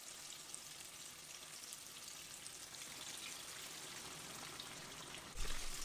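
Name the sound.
chicken frying in hot oil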